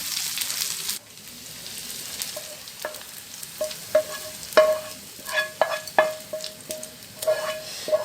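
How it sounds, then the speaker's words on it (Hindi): Ghee-fried onion and mint tempering hissing in a pan, then poured into mash dal. The sizzle is steady, broken by repeated metallic clinks and scrapes of a spoon against the vessel. Close and clear, with no talk. "अब इसमें पुदीना जो काट के रखे थे वो डाल देंगे और फ्लेम को बंद करके ये दाल में डाल देंगे।"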